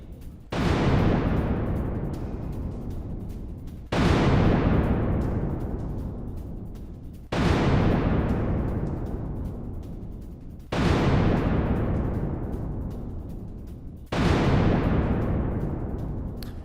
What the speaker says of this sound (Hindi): हिजबुल्लाह के ठिकाने में आईडीएफ की बमबारी